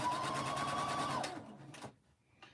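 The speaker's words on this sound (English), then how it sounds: "all we're doing is chain stitching" A sewing machine chain-stitches pink baby quilt pieces with a steady, close whirring hum that winds down and stops, followed by a couple of brief clicks.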